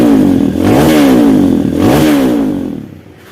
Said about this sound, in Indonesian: Sudah tidak ngelos lagi, sudah tidak kasar lagi starternya.